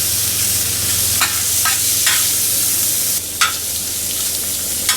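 Garlic tossed with a utensil on an outdoor discada while chicken cooks, a steady loud sizzle of frying with a few sharp metal scrapes and clanks over it, plus some wind noise, no voices.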